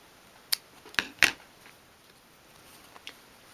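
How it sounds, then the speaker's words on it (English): Scissors snip off embroidery thread on a 1/12 scale dolls house door mat, three quick crisp cuts close together near the start, then two fainter clicks later against quiet background. "When you get to the end of your thread, again you can just snip that off"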